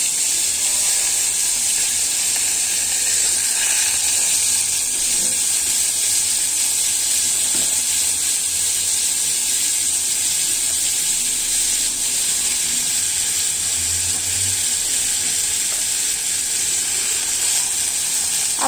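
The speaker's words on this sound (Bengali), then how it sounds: "আমি এখন এখানে গাজর আর ডাঁটা শাকটা দিয়ে দিচ্ছি।" Carrots and stem greens sizzle steadily in a pan of hot oil with popped cumin seeds, a continuous close frying hiss that holds for the whole stretch with no voices.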